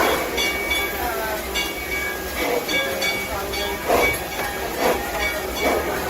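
A Six Flags railroad train built in 1901 pulls out of the station with steady clanking, hissing and rolling rail noise, close and continuous, while an announcer's voice speaks over it.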